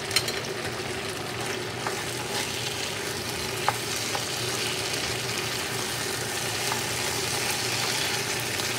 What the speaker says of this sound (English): Fry it for another 2 minutes.